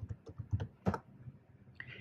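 Keystrokes on a computer keyboard while entering spreadsheet text, a quick uneven run of close, clear clicks with a short pause near the end.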